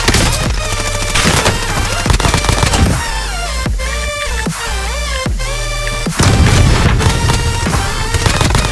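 Dense gunfire and bursts of automatic shots from the video game Call of Duty Warzone, loud and continuous with sharp cracks stacked over a layered game soundscape, swelling louder near the end.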